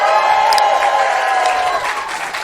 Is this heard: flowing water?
no